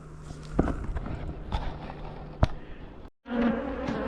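Angry honey bees buzz around an open hive, a dense close hum broken by sharp knocks and handling sounds, with a brief silent gap near the end.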